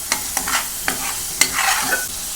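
Onion and tomato paste with ginger garlic paste fries in a pan for egg curry, a close sizzle punctuated by several sharp spoon scrapes and stirring strokes.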